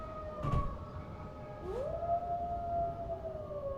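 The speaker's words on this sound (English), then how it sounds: "It sounds like it could be those dogs again, only this time there's a lot of them." A pack of dogs in the Space Engineers video game howls in the distance, with rising, long wailing tones that overlap and stretch out across the stretch.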